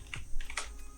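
Computer keyboard typing, a quick run of soft, close key clicks over about a second.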